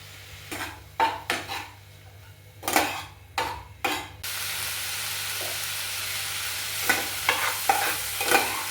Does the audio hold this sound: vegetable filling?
yes